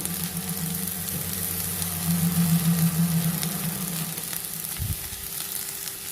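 Amaranth greens and onions fry in a little oil for thotakura fry, a continuous close crackling sizzle with a low hum beneath and a brief thump near the end, and no speech.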